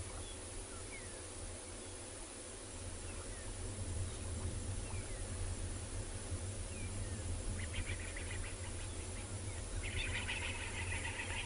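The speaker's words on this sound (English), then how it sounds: "You can hear some birds making a noise in the distance, probably spooked by something." Faint bird chirps and calls sound far off over a steady low rumble and outdoor noise on a sunset safari, growing busier toward the end.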